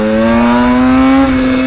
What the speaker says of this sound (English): because the bike is just so loud